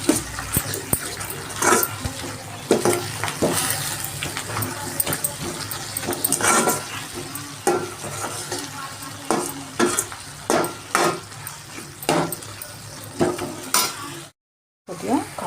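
Egg and amaranth leaves with chili powder and spices being stirred in a pan, repeated spatula scrapes and knocks in an uneven rhythm over a constant low sizzle, close and fairly loud, dropping to silence briefly near the end.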